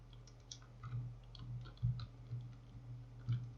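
Fingers type on a computer keyboard in a run of quick, light, close clicks over a low steady hum, with no one speaking.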